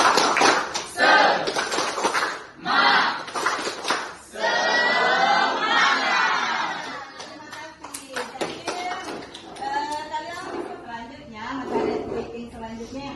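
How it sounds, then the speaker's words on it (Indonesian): A group claps together in a rhythmic cheer routine, tepuk semangat, in repeated bursts of claps with short pauses, then a chant-like stretch, with voices calling out alongside the clapping. "semuanya secara bersama-sama melakukan tepuk semangat"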